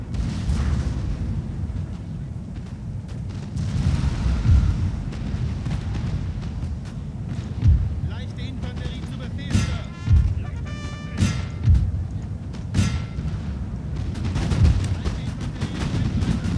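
Musket volleys in the Napoleonic battle game 1805 European Campaign, repeated booming reports and thuds rolling out at intervals over a constant low battlefield rumble, with a few sharper cracks mixed in.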